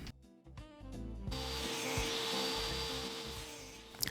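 A power saw with its blade set at an angle cuts into a 2x4, first a short spin-up, then a loud, sustained whine and rasp as the blade bites through the wood, ending with a brief clatter.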